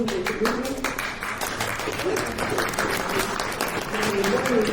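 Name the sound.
audience applause for the panel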